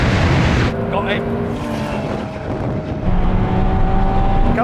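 Engines of high-powered sports cars roaring at full throttle during a half-mile and mile drag race, including an 800-horsepower Porsche 911 Turbo S, with a sustained loud, steady engine drone, a gear change, and a voice talking over it.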